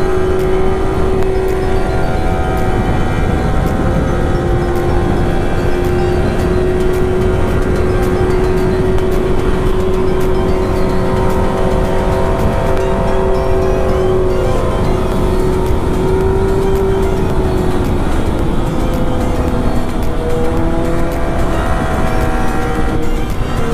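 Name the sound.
motorcycle engines revving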